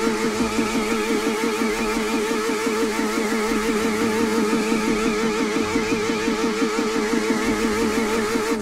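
A Kawasaki Ninja H2R motorcycle doing a burnout in The Crew Motorfest video game, its engine held at a steady, loud, pulsing high rev throughout with no letup.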